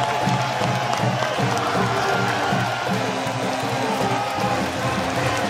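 An arena crowd roars and cheers after Princeton's win over Missouri in a 2023 NCAA men's basketball second-round game. The dense, sustained cheering carries layered shouting voices throughout.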